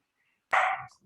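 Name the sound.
small dog barking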